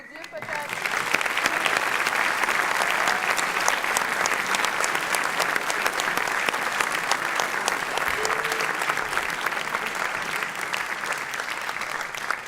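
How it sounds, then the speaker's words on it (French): Sustained audience applause at a film festival award ceremony, a dense, even wash of many hands clapping that holds steady for over ten seconds, fairly loud and close, with no voices on top. "Ouais, on peut les applaudir peut-être."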